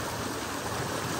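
Fresh cold water pours steadily from a tube well, a dense continuous rushing splash that stays loud and close without any pauses or voices.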